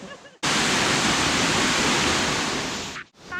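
Waterfall at Pha Li in Kalasin, water pouring out between rock crevices in the Phu Phan hills, a loud, steady broadband roar that cuts in abruptly and holds for nearly three seconds before dropping away.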